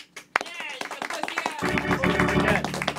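A small studio audience claps briefly during a talk radio birthday show, a ragged patter of hands swelling after a moment of quiet and mixed with voices and laughter.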